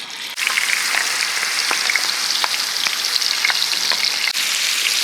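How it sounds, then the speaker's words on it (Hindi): Goat liver pieces sizzle and fry in hot oil on a flat tawa over a lowered flame, a steady close crackle with small pops and spatters running throughout after the meat hits the pan. "स्लो करने के बाद यहाँ पर हम कलेजी जो है तो तवे के ऊपर डाल देंगे।"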